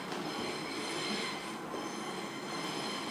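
A train passing on a track close to a home, heard nearby as a loud, steady rumble with high, ringing wheel squeal throughout.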